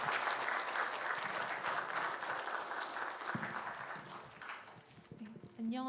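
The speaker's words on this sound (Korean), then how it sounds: "큰 박수로 환영해 주시기 바랍니다." A church congregation at a Sunday worship service claps in welcome for a testimony speaker, dense applause that gradually thins and fades toward the end, with a few stray sounds.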